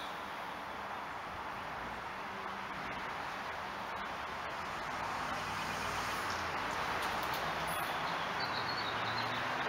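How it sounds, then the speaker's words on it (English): Busy downtown Los Angeles street traffic, a continuous faint wash of passing cars and road noise with no single vehicle standing out, rising slightly toward the end. "Street is really busy. Hey, do you hear all this traffic?"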